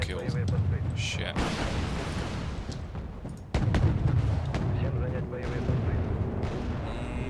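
Missile launches and explosions in the combat game Wargame Red Dragon, with dense rumbling booms and crackling blasts layered continuously throughout, a sharp heavy hit near the middle, loud and close.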